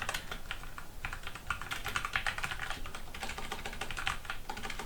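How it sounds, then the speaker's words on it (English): Rapid typing on a computer keyboard while writing C++ code, a steady close stream of light plastic key clicks with no talking. "Oh, I can't type today."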